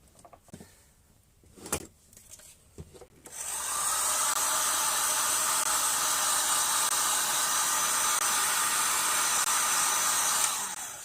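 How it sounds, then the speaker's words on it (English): An old heat gun switches on after a few seconds of faint handling knocks and then runs with a loud steady blowing whine, close and continuous, no talking. "we're going to do it the proper way. An old heat gun."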